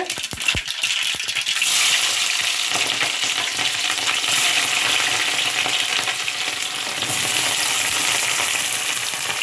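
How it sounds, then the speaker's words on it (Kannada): Mustard seeds, cumin and curry leaves are tempered in hot oil for a capsicum dish, a loud close sizzle with crackling pops and a few sharp clicks at the start, steady throughout. "ನೆಕ್ಸ್ಟು ದೊಣ್ಣೆ ಮೆಣಸಿನ್ಕಾಯಿ ಮಾಡೋಕ್ಕೆ ಒಗ್ಗರಣೆ ಹಾಕ್ತಾಯಿದ್ದೀನಿ. ಸಾಸಿವೆ, ಜೀರಿಗೆ, ಕರಿಬೇವು ಹಾಕ್ತಾಯಿದ್ದೀನಿ"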